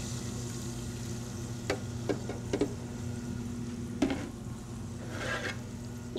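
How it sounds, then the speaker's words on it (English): Ginger sautéing in a pan, a steady low sizzle with a faint hum beneath and a few sharp clicks and scrapes of stirring, close by with no talking. "So we're just going to saute this up, get that aroma going."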